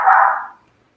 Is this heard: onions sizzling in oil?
no